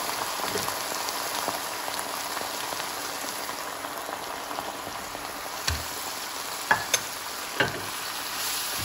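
Beef going back into a stew pot with mushrooms and dry Cabernet red wine, a steady close sizzle and bubbling with a few clunks and stirring knocks toward the end, no talking.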